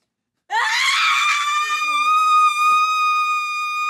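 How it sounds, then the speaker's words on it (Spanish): A sudden loud, sustained scream rings out after a short silence in a dramatic indoor scene, a piercing tonal cry holding for several seconds. "¿Qué gritos son esos?"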